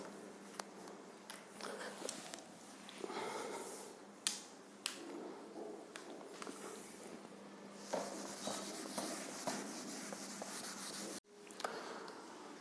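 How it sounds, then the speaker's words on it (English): Writing is rubbed off a board in a physics lecture on simple harmonic motion, a run of dry scrubbing and brushing strokes with a few sharp taps, fairly close and uneven in rhythm, without talk. "now I am going to erase these things"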